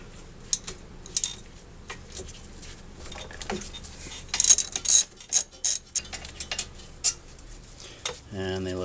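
Ratcheting wrench clicks and metallic clanks from loosening the 17 mm caliper bracket bolts on a 2002 Toyota Camry front brake, sharp bursts over a quiet garage background, ending with a brief rattle of tools.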